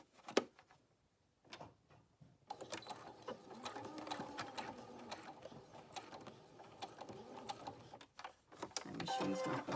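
A sewing machine stitches backwards over a zipper in a slow, faint mechanical chatter of ticks and gear clicks, starting and stopping before running more steadily.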